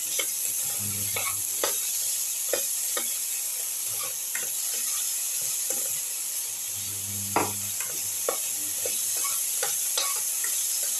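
Cucumber and tomato pieces sauté in a pan with a continuous sizzle, broken by repeated spatula scrapes and stirring taps at an uneven rhythm, close and clear, with nobody speaking.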